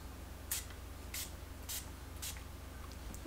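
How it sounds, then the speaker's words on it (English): Four short hissing spritzes of a Brilliantine glossing spray misted onto hair, evenly spaced and close, over a quiet background. "I like using my Brilliantine Glossing Spray. And it's just, you just kind of like spritz it on your hair."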